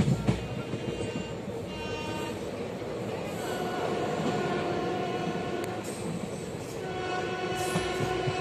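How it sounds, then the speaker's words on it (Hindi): The Old Delhi to Kalka superfast express rolls along with a steady rumble, rattling carriages and clickety-clack of wheels on rail joints, heard from inside a general coach, with faint voices in the background. "बिल्कुल राइट टाइम पे यहाँ से खुल चुकी है पुरानी दिल्ली से कालका के लिए।"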